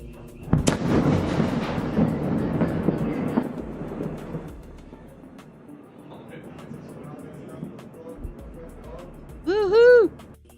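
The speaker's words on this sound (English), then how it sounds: "let's see the explosion again" A distant explosion over the Tel Aviv skyline booms once and rumbles away over several seconds, followed by quieter ambience and a short burst of voices near the end.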